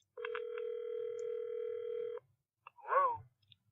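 A telephone rings on an outgoing call to a home: one long, steady electronic ring tone for about two seconds, followed by a brief burst of voice-like sound as the line is picked up.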